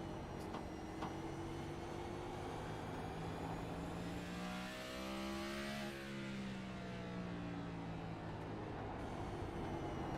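A race car engine in a stock car racing video game at North Wilkesboro drones steadily and loudly, its pitch sweeping up and back down midway as another car passes, with no talk.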